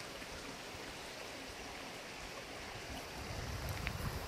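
Steady broadband rush of a river flowing beside a hiking path at the end of a loch, continuous and fairly soft, swelling slightly louder near the end with no voices.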